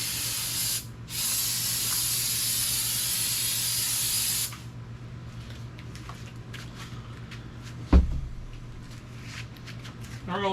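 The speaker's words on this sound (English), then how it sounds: "So first I'm going to shoot this guy with some brake clean just to knock anything off of it." Brake cleaner sprays onto the metal parts of a 1980 Chevrolet C10 truck in one loud, steady hiss of about three and a half seconds. A brief clunk follows a few seconds later, and the rest is quiet.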